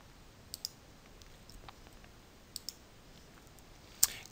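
Faint computer mouse clicks, one single and two quick pairs spaced apart, then one sharper click, in an otherwise quiet room with no talking.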